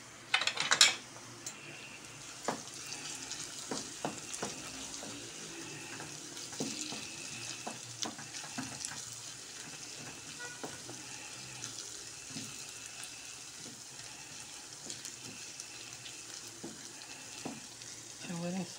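Eggplant oturtma with two spoonfuls of tomato paste is stirred in a hot pan, giving a steady sizzle and fry with irregular scraping and clinking of the spoon throughout, heard up close with no talking.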